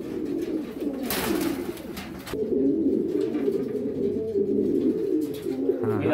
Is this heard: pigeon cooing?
yes